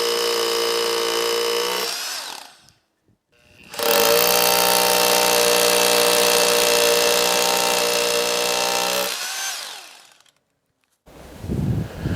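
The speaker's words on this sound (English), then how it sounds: "those hammer drills take some power" A hammer drill drilling concrete whines loudly in two long sustained runs with a short pause between, then stops, followed by a brief burst of noise.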